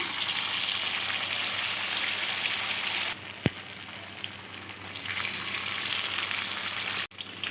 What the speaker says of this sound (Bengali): এবার আমি একটা একটা করে ব্যাটার মাখানো কুমড়োগুলো দিয়ে দিচ্ছি।